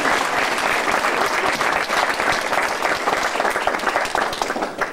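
Wedding guests give a loud, sustained round of applause, dense and steady clapping filling the room for several seconds, with faint voices mixed in.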